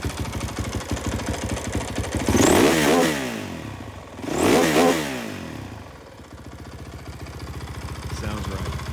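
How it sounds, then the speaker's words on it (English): A 2008 Honda ATC450X converted to a trike by BVC revs twice in strong, rising-and-falling surges over a steady idle, loud and close, with a voice talking around it. "Let's rev her up a little bit."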